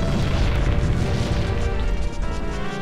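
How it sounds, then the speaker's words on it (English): Heavy, continuous booming blasts and crashing rumbles from bombs blasting giant snowballs in the video game Majora's Mask, loud and dense throughout with no pauses. "Get out your bombs, and blast them!"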